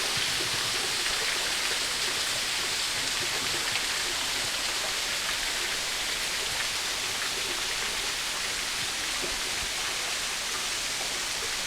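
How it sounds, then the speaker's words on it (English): Steady rushing water fills the scene, a constant broadband roar of a waterfall pouring into a pool and stream in bushland, unbroken throughout. "Little cameos of the falls and the surrounding area around the pool of water."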